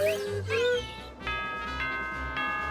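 A Sims 4 doorbell mod chimes in a video game, with a couple of rising electronic tones followed by three sustained bell-like dings at even intervals, clear and close.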